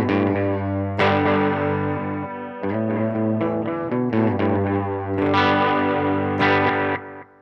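Heavily distorted electric guitar chords ring out loud and sustained, several strums with long decaying overdriven tones from a cranked preamp with no distortion pedal, no talking.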